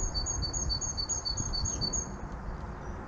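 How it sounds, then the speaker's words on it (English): A great tit chirps over and over in high, thin bursts from a garden greenhouse setting, faint against a steady low background rumble, with no talking. "Bloody great tit there chirping away"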